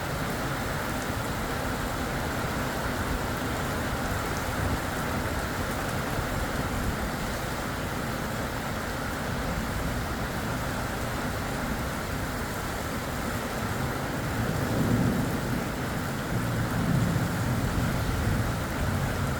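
Heavy rain pours down steadily during a violent evening thunderstorm in the Drôme, a dense continuous wash of noise with a low rumble swelling near the end.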